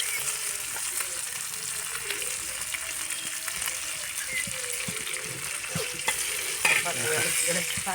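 Fish pieces frying in a pan with steady, dense sizzling and crackling throughout, occasional stirring scrapes and a brief louder spatter near the end, no talking.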